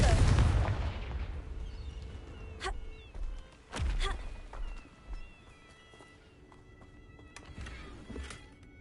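Blasting-curse explosions from the Hogwarts Mystery game, a big boom at the start followed by several sharper blasts and impacts spaced across the clip, with game effects in between.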